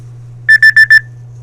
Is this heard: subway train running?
no